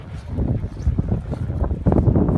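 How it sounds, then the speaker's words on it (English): Strong wind gusts roar through a Buffalo snowstorm whiteout, a loud continuous rumbling rush buffeting close to the microphone with surges in strength. "Wind's picking up."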